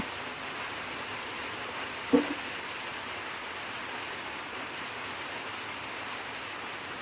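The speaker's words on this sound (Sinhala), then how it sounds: "ඔව් යාළුවනේ හිතටම වහිනවා" Heavy rain pours down in a steady, even hiss that fills the whole stretch, broken once by a single sharp knock close by; no one speaks.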